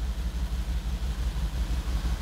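A Mercedes-AMG G 63 engine idles with a deep, steady rumble that pulses in an even rhythm, heard close and alone.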